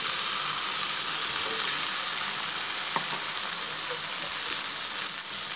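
Mustard paste goes into fried okra in a pan, giving a continuous, even sizzle that stays loud and close throughout, with a faint clink partway through.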